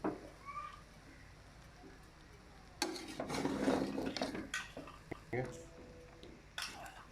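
Chinese vegetable rice being stirred and mixed in a pot, scraping and clinking of a utensil in uneven bursts after a quiet start.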